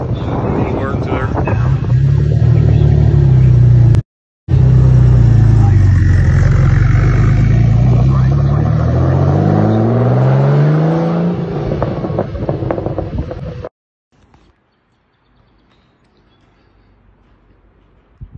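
A Porsche 930 nicknamed the Blue Monster pulls away, its loud engine climbing steadily in pitch as it accelerates before the sound cuts off abruptly into quiet.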